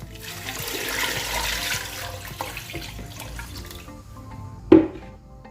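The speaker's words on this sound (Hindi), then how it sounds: "और 1 लीटर में इसमें पानी डालूंगी।" Water pours into a pressure cooker holding beef with onion, ginger, garlic and spices, a rushing splashing stream that thins out and ends with a sharp clunk near the end.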